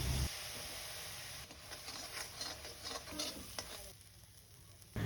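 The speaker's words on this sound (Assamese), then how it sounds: "একদম অকণমান পানী দি কিনে ভালদৰে ভাজি লৈছোঁ।" Spice paste for an Assamese-style fish curry, made with turmeric, salt and a splash of water, sizzles steadily in a pan on high flame while a spoon scrapes and stirs through it, close and continuous.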